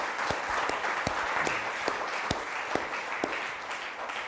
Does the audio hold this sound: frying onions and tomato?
no